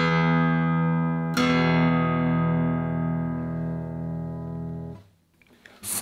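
Low notes ring out on a 2014 K.Yairi SBL-1A acoustic guitar with a large body and laminated sides and back: a deep strummed chord sustains, is struck again, then fades before a light scrape of fingers on strings.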